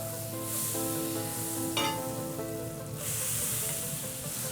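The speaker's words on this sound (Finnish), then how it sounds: "Sitten paistetaan tätä muikkua ja laitetaan sinne reilusti voita tonne." Vendace (muikku) fry in plenty of butter in a pan, giving a steady, close sizzle that runs the whole time, with a brief louder crackle near the middle.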